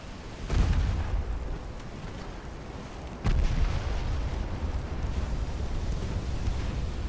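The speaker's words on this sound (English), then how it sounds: "one of the torpedoes managed to detonate" A torpedo detonates in the naval video game Ultimate Admiral: Dreadnoughts: a heavy, deep boom, then a second thudding blast a few seconds later, both sinking into a loud, rumbling roar that carries to the end.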